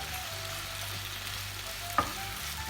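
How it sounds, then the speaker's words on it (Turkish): Steady sizzling of peppers and vegetables frying in a pan with little oil, with a brief clatter of stirring near the end; continuous, close, no talk. "Biberlerimizi de koyuyoruz. Şöyle karıştıralım."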